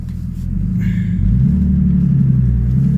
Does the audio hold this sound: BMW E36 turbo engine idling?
yes